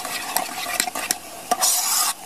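A homemade washing soda and dish soap mixture is stirred vigorously in a container, giving quick repeated scraping and clinking strokes, close and fairly loud, ending in a brief burst of faster stirring.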